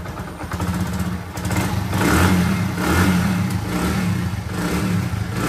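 A Honda motorcycle engine, newly fitted, runs after a self start, a close, steady mid-pitched idle with a few gentle swells of revving.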